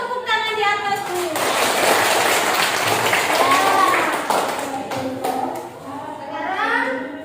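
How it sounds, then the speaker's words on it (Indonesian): Children in a classroom clap their hands overhead on a teacher's cue, a busy burst of clapping that swells and fades, with kids' voices and speech around it. "tepuk tangan di atas dulu"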